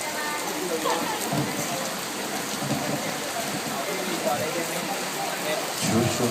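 Steady heavy rain pours down across a surface, with a low rumble of thunder swelling near the end.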